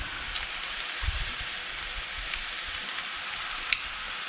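Soy sauce poured liberally over stir-fried rice in a hot pan, giving a steady, close, hissing sizzle with a few soft clinks of the utensil, no voices.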